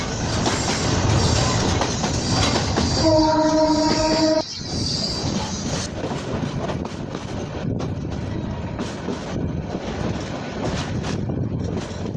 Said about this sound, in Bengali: দেখুন মানুষের মরণের কোনো ভয় নাই ট্রেনটা কত কাছাকাছি চলে আসছে